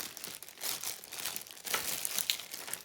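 Close crinkling and rustling of plastic wrapping as a package from a slime shop is opened, with irregular bursts of crackle and a brief tearing sound, no talking.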